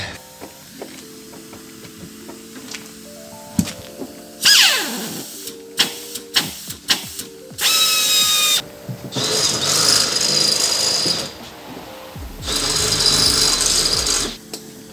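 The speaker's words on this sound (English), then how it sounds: "they were kind enough to let me use their air gun" Pneumatic air gun setting M8 rivet nuts in a workshop while a camper recovery board mount is built: a series of sharp hisses and whirring bursts with clanks and metallic clicks between them, loud and close, no talk.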